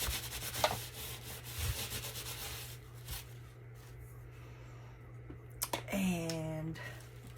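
Colour being rubbed off a craft page: soft, faint scrubbing and rustling strokes of paper, intermittent and close, with a brief squeaky scrape near the end.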